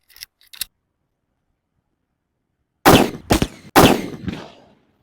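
Homemade coconut-shell firecrackers (kottachi vedi) going off outdoors: two faint small pops, a pause, then three sharp loud bangs in quick succession with short decays.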